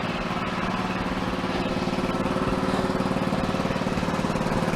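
A small lawn mower engine runs steadily and close by, a continuous buzzing drone with a fast, even pulse.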